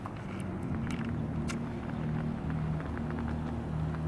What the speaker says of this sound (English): There is a tram car coming, let's check it out.